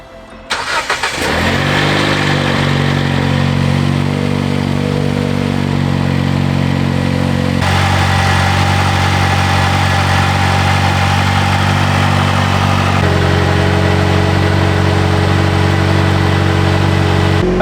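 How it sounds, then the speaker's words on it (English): A Jeep JL with a 2.0L turbo engine cranks briefly and catches, then runs at a steady, loud idle whose pitch steps down slightly as it settles, recorded close with no talking. "start the car, make sure there's no leaks underneath it"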